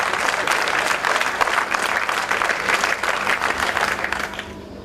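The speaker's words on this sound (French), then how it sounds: "Je vous demande de vous acclamer encore très très fort." Audience at a 2013 show in Ouagadougou, Burkina Faso, applauding loudly and steadily, a dense wash of clapping and cheers that thins slightly toward the end.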